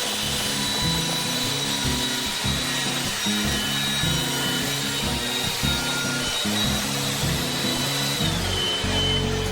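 A homemade cyclone separator dust collector motor runs continuously after its trigger is pulled, a loud steady roaring whine with a slight pitch drop near the end.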